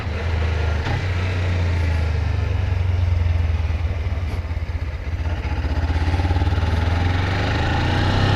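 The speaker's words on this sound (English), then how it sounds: "The exhaust is very," Low, steady exhaust rumble from a 2018 Suzuki GSX250R motorcycle, continuous and even throughout, heard while riding with some road and wind noise.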